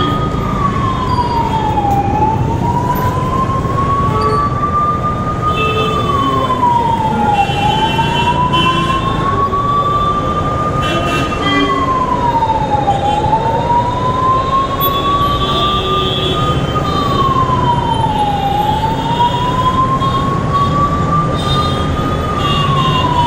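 An ambulance's wailing siren rises and falls steadily over heavy, constant Delhi traffic rumble, loud and close throughout.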